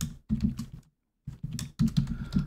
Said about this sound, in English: let's start with typing our first Python code